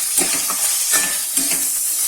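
Chicken, garlic and mushrooms sizzle in a frying pan as oil is added, a bright, steady hiss with a few soft stirring clinks, close and alone.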